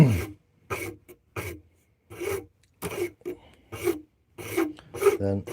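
A rasp files a workpiece in about eight short, separate strokes, each a close, coarse scraping burst with brief pauses between them.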